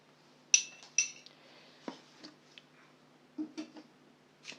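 Metal spoon clinking against a bowl while table oil and ingredients are added for matlouh bread, a few sharp separate taps and scrapes, near and fairly quiet, with no talk.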